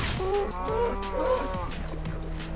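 Cows in the game Minecraft moo in a quick string of overlapping low calls, fairly quiet and set against faint background clatter.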